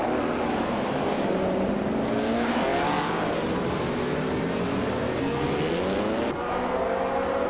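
A vintage 1950 Ferrari 125 F1 racing car roars at a race start, its engine note rising and falling through repeated gear changes, loud and steady against the sound of other cars.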